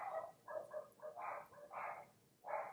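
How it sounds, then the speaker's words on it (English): Dogs bark indoors in a series of short, mid-pitched yaps and woofs, about six bursts over a few seconds, moderately close with no talking over them. "I don't know why they're barking."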